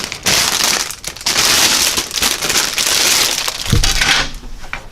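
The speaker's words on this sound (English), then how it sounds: "Fortunately, the bags are resealable, so I can slice them all open." Resealable plastic bags holding parts for a 1/48 E-2C Hawkeye model kit are handled and cut open up close, giving continuous crinkling and crunching with an irregular rhythm and a few sharper snaps.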